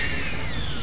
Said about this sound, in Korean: 역시 새소리가 많이 나는구만.